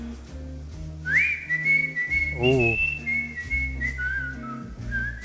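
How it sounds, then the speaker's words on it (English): A man whistles a melody in a song, with sustained, sliding notes over bass and instrumental backing, loud and up front. Someone briefly exclaims over the music. "It's rare that we hear whistling on the channel."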